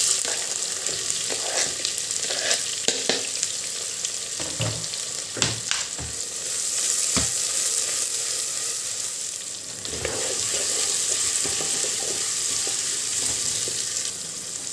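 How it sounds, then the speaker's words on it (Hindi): Onions frying in hot mustard oil for a spicy turai sabzi, a steady bright sizzle that keeps going throughout, with a few soft stirring knocks and scrapes. "अब हम प्याज को गोल्डन ब्राउन होने तक अच्छे से पका लेंगे"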